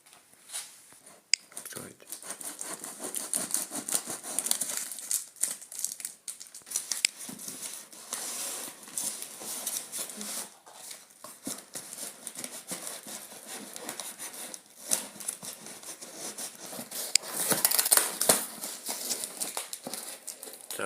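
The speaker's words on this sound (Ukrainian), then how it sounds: "відкриваємо посилку. Тут там має бути 30 штук." A parcel of Cabrillo frigo strawberry seedlings is opened by hand, with continuous crinkling, rustling packaging and occasional sharp snips or tears. Low, hushed voices are heard throughout.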